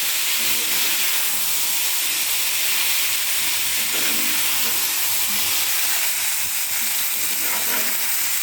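Water poured into a hot pan of vegetable curry bursts into a loud, continuous hiss of steam and sizzle that fills the whole stretch without pause.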